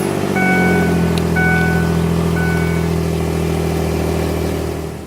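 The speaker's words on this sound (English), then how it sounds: "Now we're going to start the engine on my truck, which is the good battery, and let it run for 2 minutes." A truck engine runs loud and close with a steady low harmonic drone that rises briefly as though revved, then settles and fades slightly toward the end.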